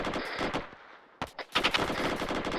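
Machine gun firing short, rapid bursts during an IED training base-defence exercise, loud and sharp, with a brief pause between a first burst and a denser, longer second volley.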